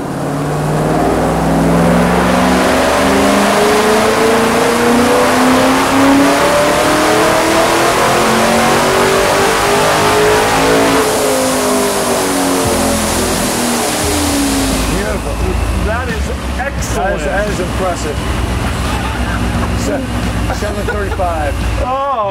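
ProCharged C6 Corvette engine revving on a dyno. It gives a loud, sustained pull with pitch rising steadily through a long run, then drops off into a rougher, lower burble. Speech is present in the clip.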